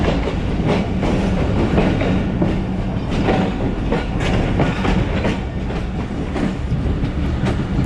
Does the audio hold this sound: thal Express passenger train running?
yes